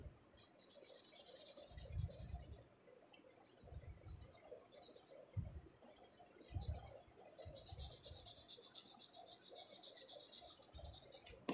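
Pencil drawing on paper being blended by rubbing, heard as repeated close, soft scratchy strokes in a steady back-and-forth rhythm with brief pauses.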